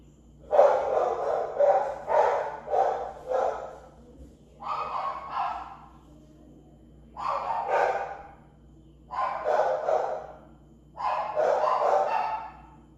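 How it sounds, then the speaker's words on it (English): A dog barks outdoors in five distinct bursts of rapid, mid-pitched barks separated by short pauses, fairly close and clear over a steady low hum. "I thought I heard a cry and my dog was out"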